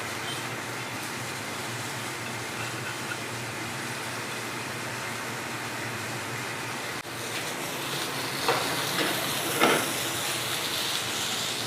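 Eggs cooking gently over lowered heat in a professional kitchen pan, a steady broad hiss that thickens partway through, with a couple of faint utensil taps and no voices.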